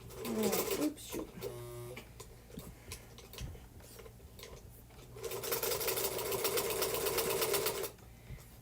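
A modern push-button automated sewing machine stitches in quick rattling bursts, a short run early and then a longer steady stretch, with faint clinks and a voice speaking quietly at times between runs.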